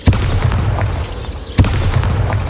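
Two loud, booming blasts from the Bombarda blasting spell in the Hogwarts Legacy video game, one at the very start and another about halfway through, each followed by rumbling debris over a constant noisy game background.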